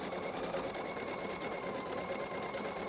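A Pfaff Creative Icon sewing machine runs an embroidery design, its needle stitching in a fast, steady mechanical rhythm that stays close and even for the whole stretch, with no voices over it.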